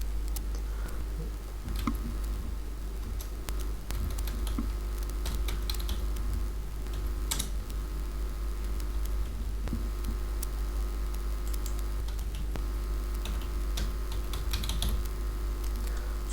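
Typing on a computer keyboard while filling in a UK visit visa application form: irregular close key clicks and taps over a low steady background hum.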